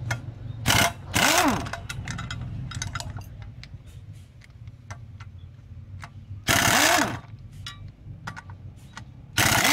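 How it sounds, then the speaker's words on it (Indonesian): Impact wrench loosening a sprocket nut on a Honda CB150R motorcycle, firing in two loud, short hammering bursts separated by quieter workshop clinks and tool handling. "saya menggunakan impact biar cepat"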